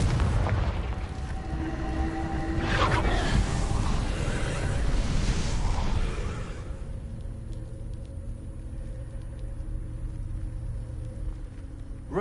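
A deep, rumbling blast from the Confringo fire spell in the Hogwarts Legacy video game, booming loudly for the first several seconds, then fading into a low, steady rumble.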